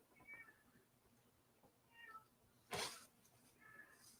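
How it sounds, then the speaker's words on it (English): A pet cat meows faintly several times from a distance, short high cries spaced a couple of seconds apart in a quiet room, with one sharper, louder noise in between. "You hear my cat out there, Francis?"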